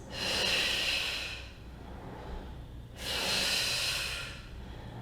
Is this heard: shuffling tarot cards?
no